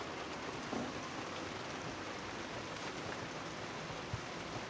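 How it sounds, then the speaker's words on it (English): Steady, even rain falls outside a grocery store with a full parking lot, a constant soft hiss at moderate distance with no talking. "Nothing like working on a day when it's raining."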